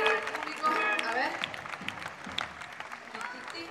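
An audience at a live show applauds with scattered, fairly faint clapping under overlapping voices and crowd noise.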